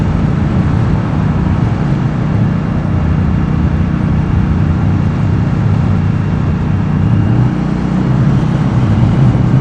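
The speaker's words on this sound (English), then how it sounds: "Even in fourth gear, I can roll on the throttle, and I mean, it pushes me back in my seat" A 2015 Indian Scout motorcycle accelerating in fourth gear, its engine a loud, steady, close drone. Heavy rushing wind noise blankets the engine the whole time, with no voices.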